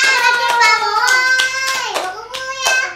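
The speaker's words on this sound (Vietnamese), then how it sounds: "Cả nhà vỗ tay nào" Family members clap hands at a birthday meal, sharp individual claps in an uneven rhythm, partly masked by a bright sustained sung or spoken voice over the top.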